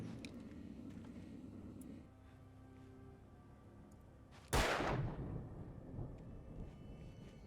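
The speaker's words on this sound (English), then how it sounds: "Fireworks?" Fireworks exploding in the video game Alan Wake: one loud, sudden blast about halfway through that rolls off into a rumbling tail, standing out over a low steady ambient drone.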